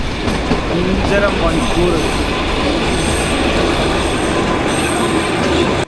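The Kalka to Shimla Himalayan Queen toy train runs with a loud, continuous rumble and wheel squeal heard from on board, while a person briefly speaks over the noise.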